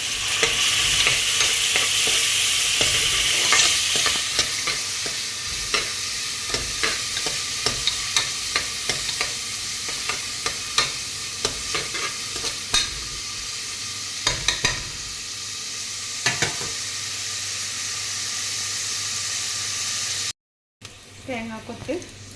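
Coconut pieces frying in a pan, a loud steady sizzle with frequent clinks and scrapes of a spoon stirring throughout, and a brief cut near the end before the sizzle resumes.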